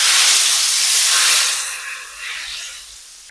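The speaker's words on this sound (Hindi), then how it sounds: "तो गरम गरम तड़का शामिल कर देंगे दाल के ऊपर।" A loud burst of sizzling and hissing as a hot oil tempering is poured over cooked lentils for Kashmiri dal, fading into softer crackling spatters.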